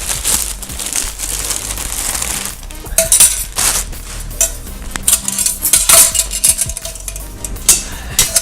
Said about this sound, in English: this actually comes with its own separate rack to pull in and out of the pressure cooker